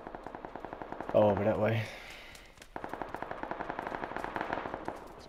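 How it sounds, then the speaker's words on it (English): Distant gunfire in PUBG: Battlegrounds rattles in steady rapid bursts of sharp pops. A brief spoken remark cuts across, then the far-off shooting carries on in a regular rhythm. "I heard other shots, though, coming from south, 170."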